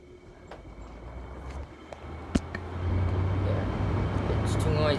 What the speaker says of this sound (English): We'll start on low fan.